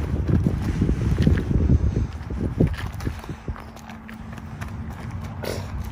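Wind gusts rumble across the microphone in a park in the United States, loud and blustery at first before easing into a softer, steady rush.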